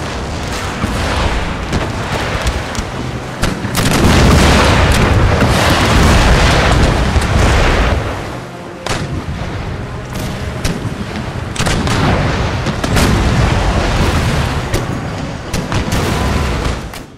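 Repeated heavy cannon booms from a naval battle in Empire: Total War roll and overlap in a loud, continuous barrage, punctuated by sharp blasts and rumbling echoes.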